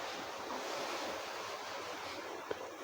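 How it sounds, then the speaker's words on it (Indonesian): Strong wind blows at the seaside, a steady broad rush with surf-like roar and a single small knock near the end, fairly faint overall. "angin mulu ya, angin kenceng"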